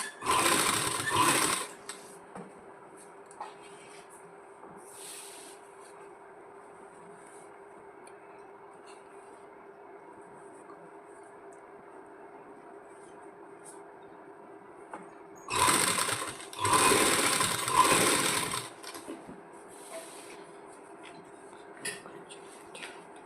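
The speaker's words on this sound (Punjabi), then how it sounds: "ਹੁਣ ਆਪਾਂ ਇਹਦੇ ਕਿਨਾਰੇ ਤੇ ਜਿਹੜੀ ਆ ਸਲਾਈ ਲਗਾ ਦਾਂਗੇ" A sewing machine stitches lace along the edge of a salwar in two bursts of rapid, close, mechanical whirring, a short one at the start and a longer one later, separated by a quiet stretch with faint handling.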